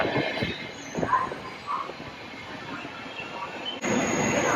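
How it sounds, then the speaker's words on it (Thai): A train rolls in with rumbling wheels and faint high squeals from the rails, moderately distant, then the noise swells slightly near the end. "รถไฟมาแล้วอยู่ข้างหลังนี่เอง"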